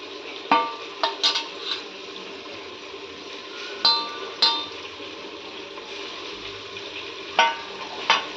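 Chopped mint and coriander fry in oil in a pan for chicken biryani, with a soft steady sizzle broken by occasional stirring clinks and scrapes, close and fairly quiet.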